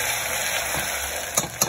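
Ginger-garlic paste frying in a pan for chicken soup gives a brief steady sizzle, close and moderate, with a couple of small clinks near the end and no talking.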